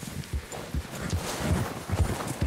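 A horse's hooves clip-clop at a walking pace in Red Dead Redemption 2, close and steady, a rhythmic series of dull thuds on snowy ground.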